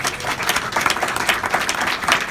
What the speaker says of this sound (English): And give them another round of applause.